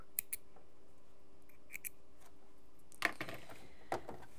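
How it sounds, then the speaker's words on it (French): Scissors snipping fabric on the bias while sewing menstrual underwear, a few faint isolated clicks followed by two louder close cuts near the end, in an otherwise quiet room. "Ici, je vais aussi venir couper en biais et je vais couper mon dernier picot."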